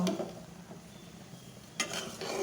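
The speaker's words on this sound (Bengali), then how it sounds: "এখন আমি হালকা একটু লবণ দিয়ে এগুলোকে নেড়ে চেড়ে ঢাকা দিয়ে ঢেকে রেখেছি।" Bathua greens are stirred in a cooking pot with a utensil, giving a few soft scraping and rustling strokes close up, with a louder clatter of the pot near the end.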